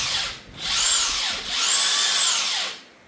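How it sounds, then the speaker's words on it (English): A power tool spinning on an LS engine crank bolt, two close, loud whirring runs, each rising and falling in pitch with a brief dip between them. "Just get you the best impact ever made and put it on earthquake mode"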